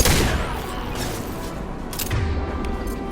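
Crates of unstable materials blowing up in the Mass Effect 2 video game on Tuchanka, a loud burst of explosions and gunfire-like crackle with booming low rumble continuing throughout.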